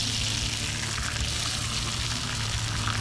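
Sausage filling fries in a pan at a campsite with a loud, dense sizzle that stays steady throughout, close up and with no voices.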